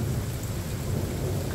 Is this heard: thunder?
yes